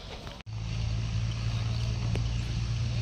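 A tractor pulling a trolley along Bathinda Cantt road beside an outdoor religious gathering, a steady, fairly close low engine drone that holds for the length of the clip after a brief dropout at the start.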